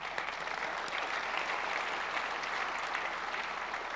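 An audience at a software developer talk on ASP.NET Core gives a steady burst of applause. The clapping is dense and even throughout, with no voices standing out.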